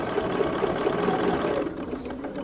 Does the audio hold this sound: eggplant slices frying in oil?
no